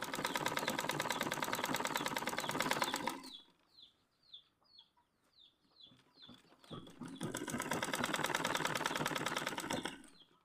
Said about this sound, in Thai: ก็เย็บเรื่อยๆนะคะ เวลาเราเย็บแบบนี้นะคะ